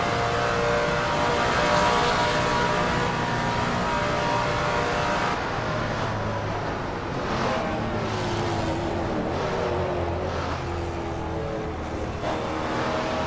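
A vintage Trans Am race car's engine roars steadily in Assetto Corsa, loud and close, with the pitch rising and falling through gear changes as the car is thrown around corners, no voices.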